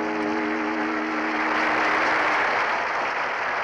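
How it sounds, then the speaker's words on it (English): Clapping from a Russian animated cartoon comes through as a continuous wash of many hands, steady and moderately loud, with a low tonal hum from the soundtrack running underneath during the first half. "Oh, wait, I'm hearing clapping."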